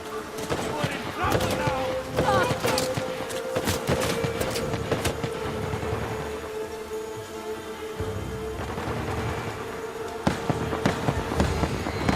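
Gunfire in the video game Uncharted: The Lost Legacy, rapid cracking shots in bursts alongside the game's background noise, with a voice talking over parts of it.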